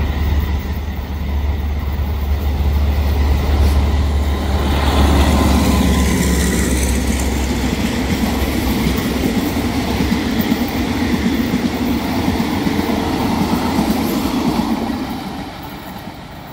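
Rapid train 111 passing kilometre 507 into Pang Ton Phueng station in Thailand, a loud continuous rumble of wheels and cars rolling close by with clickety-clack and faint wheel squeal, fading near the end.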